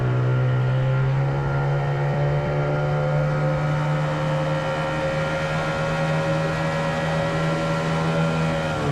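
A 1988 Johnson 9.9 hp outboard motor idles with a steady, even drone that stays loud and close throughout, loading up slightly without any talk over it.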